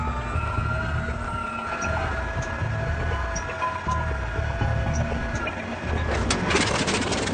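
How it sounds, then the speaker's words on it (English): A cold WWII-era aircraft engine labours to start with a dense, rough mechanical roar, steady and loud, then rising near the end as rattling bursts come through. "starting the engine cold is a haphazard and messy affair"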